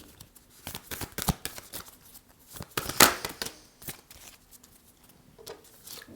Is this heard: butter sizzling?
no